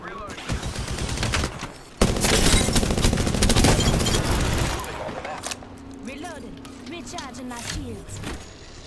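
Dense automatic gunfire in Apex Legends, rapid loud bursts and sustained fusillades for several seconds, thinning to scattered shots and mechanical whirs, with players talking over the fight.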